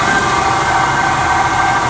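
A Mercedes ML320's worn driveshaft center bearing gives a steady, loud howl with a constant whine and broadband rumble throughout, with no talk.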